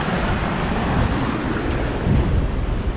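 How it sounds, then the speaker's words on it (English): Ocean surf crashing steadily with a low, broad roar on a black-sand shore in Santa Cruz de Tenerife, wind buffeting the microphone and a stronger surge near the two-second mark. "there's the little castle, and there's the ocean crashing"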